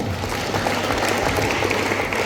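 Audience applauding during a talk on insurance and assets, a steady, dense wash of clapping from a room full of people, loud and continuous for a couple of seconds.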